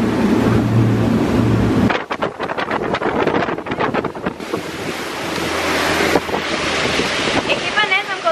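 Wind and sea waves heard from a boat at sea: heavy, continuous microphone wind buffeting over the wash and surge of waves, loud and close from start to finish.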